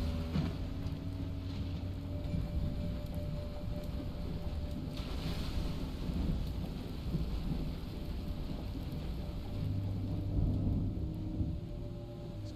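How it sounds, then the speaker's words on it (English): Rain, wind and rolling thunder from a thunderstorm at sea in FAR: Changing Tides, a continuous dense wash with a louder rumbling swell around the middle and another surge near the end. "I kind of want to see the storm."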